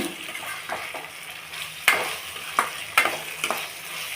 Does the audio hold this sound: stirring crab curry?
yes